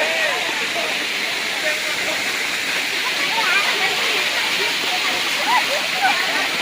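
Madhavaram waterfall near Aragonda roars as a steady, dense rush of falling water, with children's playful shouts faintly scattered over it.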